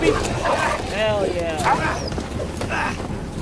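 In the medieval video game Kingdom Come: Deliverance 2, a dog gives several loud yelping barks and whines close up amid combat noise, with a voice speaking over the sounds.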